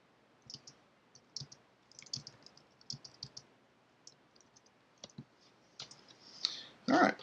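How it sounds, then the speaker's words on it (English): Computer keyboard typing in irregular bursts of light, close clicks, with sparse pauses and a louder cluster of keystrokes near the end. "If you hear me typing or anything, I'm at my computer"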